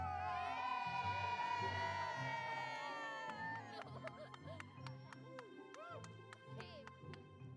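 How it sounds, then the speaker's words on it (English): A live outdoor crowd at an evening Christmas event stands outside windows, with a steady murmur of many voices, sporadic whoops and cheers, and layered musical tones over the crowd throughout. "let's see how the crowd is doing outside our windows"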